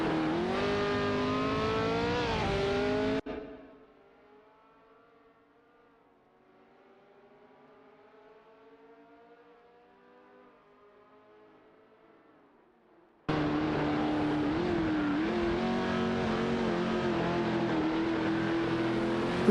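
Race car engines of a Legrand Mach11 and a McLaren 10A in a racing game, a loud sustained high-revving drone that drops to a faint distant whine for several seconds, then bursts back loud and close.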